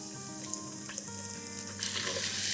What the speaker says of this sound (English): saute this till they just kind of begin to turn golden brown in color